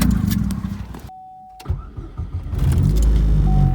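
A car just fitted with a new axle starts up and pulls away, with engine cranking, a brief quiet gap, then a steady rising engine rumble close by.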